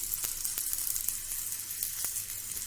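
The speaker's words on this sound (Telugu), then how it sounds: "కరివేపాకు కాస్త క్రిస్పీ అయ్యేంత వరకు వేయించుకుందాం" Curry leaves fry in hot oil with green chillies for a hotel-style peanut chutney, making a bright, steady crackling sizzle close up, with a few light spatula taps and no talking.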